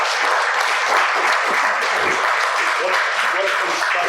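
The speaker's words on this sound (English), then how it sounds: "So, we have a round of applause for our fine." Audience applause fills the room at the close of a panel discussion among Milwaukee-area journalists, a dense, steady clatter of many hands clapping for the full span.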